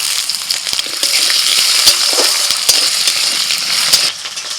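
Potatoes sizzling in hot oil tempered with dried chilli, mustard seeds, whole cumin and curry leaves, a loud close crackle with sharp pops and spatters over a steady hiss.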